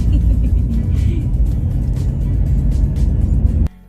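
A car drives fast on winding mountain road curves at night, its engine a loud, steady low rumble heard from inside the vehicle that cuts off abruptly near the end.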